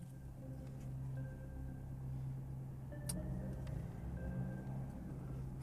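A car rolling slowly down a gravel road: a steady low engine rumble with faint crunching texture, quiet and continuous, with no voices.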